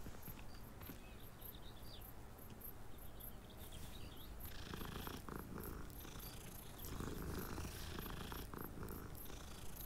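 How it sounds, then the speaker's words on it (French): Cat in Hogwarts Legacy purring while being petted, a soft, steady, low rumbling purr that runs throughout, faint and close, with light rustling and background ambience rising partway through. "On va caresser un chat avant."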